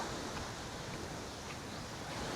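Waves break on Bacubac Beach in Basey, Samar, a steady, faint wash of surf with wind noise across the microphone and no voices.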